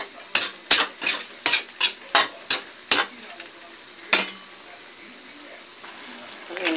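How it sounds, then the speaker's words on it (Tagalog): Radish, carrots and red pepper being stirred in a pan, with about eight quick scraping strokes in a steady rhythm over a soft sizzle, then one more stroke after a pause. "Haluin na natin."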